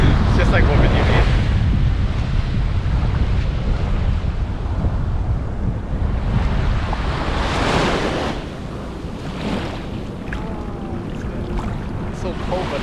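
Ocean waves at Point Dume in Malibu roll and wash onto the shore in a steady, loud surf with gusts of wind buffeting the microphone, easing somewhat after about eight seconds.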